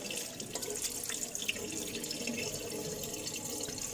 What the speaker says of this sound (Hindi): हमने पानी के छींटे मारे